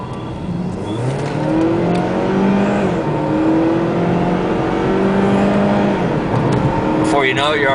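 A 2005 Saab 9-3 2.0T with a stage 1 package accelerates hard, its engine note climbing steadily and loudly through the gears, with a brief sharp rise near the end.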